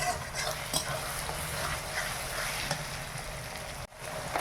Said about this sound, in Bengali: রসুনটা বাটা হয়ে ভাজা হয়ে গেছে